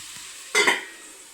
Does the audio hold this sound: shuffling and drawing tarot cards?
no